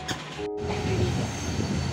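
Continuous rumbling rattle of a moving passenger train heading toward Medinipur, heard from on board, with a brief high squeal and steady rolling noise close by.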